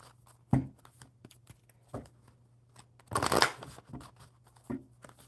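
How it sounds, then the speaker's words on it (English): Tarot cards are shuffled in a few quick riffling bursts separated by soft handling noises, close and fairly quiet, with no talking. "One more good shuffle."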